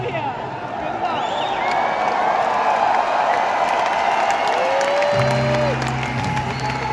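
A large crowd at a metal concert at Escalation Fest in Oberhausen claps and cheers loudly and steadily, with whoops rising over the dense applause throughout.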